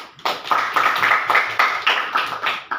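A short burst of hand clapping from a group, steady rhythmic claps with no talking, loud and close.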